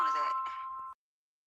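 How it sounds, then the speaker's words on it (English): A phone notification ding rings out clearly, a bright chime with a short decaying tail that cuts off abruptly, with a faint murmur beneath it. "Whose phone is that?"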